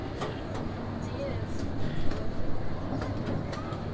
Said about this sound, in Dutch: Zo, we gaan lekker met de trein hier door het park heen.